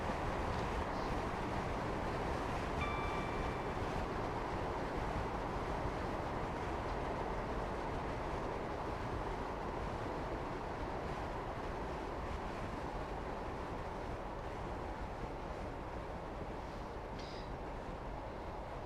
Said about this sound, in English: Now approaching our next stop, which is Colwyn Bay. This is when I put the brakes on.